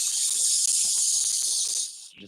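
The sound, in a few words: voice imitating sizzling hiss of steam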